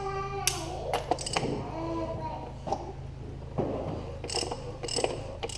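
A ratchet wrench clicks in short bursts while tightening the oil filter housing on a BMW N54 engine, close and fairly faint, with a steady background hum and a few brief knocks between strokes.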